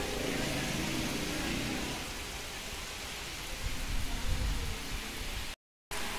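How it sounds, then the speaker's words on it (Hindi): Steady heavy monsoon rain hisses continuously outdoors, with a brief dropout near the end. "ये देखे कितनी तेज बारिश आ चुकी है"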